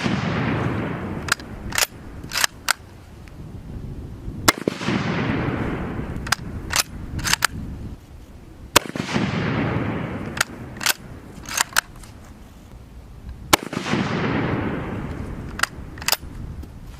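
Gunshots are fired at a target on an outdoor shooting range: about a dozen sharp, loud cracks come at irregular intervals, often in quick pairs, and each one leaves a brief rumbling tail.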